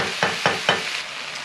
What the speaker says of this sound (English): You can actually hear the sizzle as well.